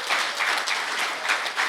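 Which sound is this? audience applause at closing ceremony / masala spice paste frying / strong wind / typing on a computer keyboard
audience applause at closing ceremony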